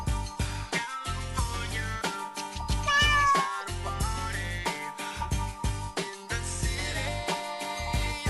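Cat meows arrive in several clear, loud calls, some long and wavering, set against a rhythmic musical bed on a radio sports show.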